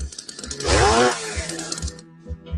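A chainsaw revs briefly as a comic sound effect in a radio ad, a rough snarling burst that rises and falls within about a second, set among short thumping sounds and fading out abruptly.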